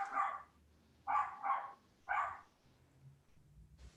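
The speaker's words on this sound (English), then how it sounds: "is that your dog in the background?" A dog barks in the background during an online zoning board meeting, four faint, distant barks in an uneven rhythm, followed by quiet low noise.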